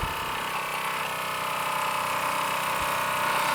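Scratch-built copper model steam engine running down after its gas burner is shut off, a steady close mechanical whirring and chuffing hum that continues evenly throughout with no talking.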